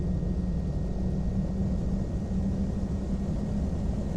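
A PA-34 Seneca twin-engine plane taxiing in a flight simulator gives off a steady, low engine drone and propeller hum that holds at an even level throughout.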